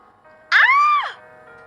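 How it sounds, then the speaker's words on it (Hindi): A single woman's scream as an audio drama sound effect, one loud sustained cry lasting about half a second with a rising start and falling tail, close and alone over faint background. "आहान अपनी सोच में गुम था जब ईशा की चीखने की आवाज आई"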